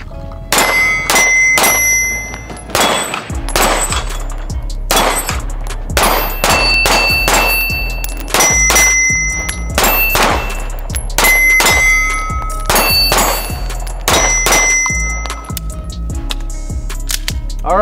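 Rapid strings of gunshots from a Springfield Prodigy 1911 DS pistol, loud and close, with sharp metallic ringing on steel targets and short pauses between bursts.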